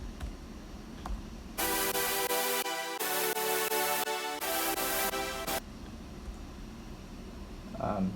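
Future bass synth chords built in Logic, loud, bright and sustained, entering abruptly and changing in stepped blocks for about four seconds before cutting out to faint background hiss.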